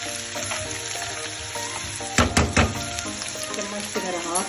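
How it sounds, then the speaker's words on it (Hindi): Spices sizzle and crackle steadily in hot desi ghee with butter, a tadka for saag, with a few sharp spattering bursts and stirring as someone talks over it. "तो मैं तड़का लगा रही हूँ"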